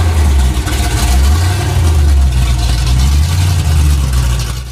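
A supercharged Impala engine runs on a dyno, a loud, steady low rumble with a thick droning tone throughout, close and unbroken.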